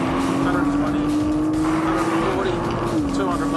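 A car launching hard without launch control, its engine note climbing steadily under load with a strong continuous roar, loud and close, with a voice talking over it.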